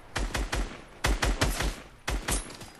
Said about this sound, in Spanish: tengo a uno, le disparo